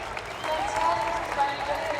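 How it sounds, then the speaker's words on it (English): Crowd applause at a Red Bull cliff diving World Series event in Copenhagen, Denmark, a steady outdoor wash of clapping that holds at even strength for about two seconds. "Round of applause for Stephen Lebeau."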